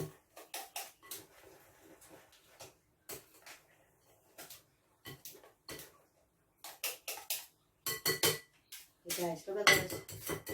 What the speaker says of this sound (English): And then mix it.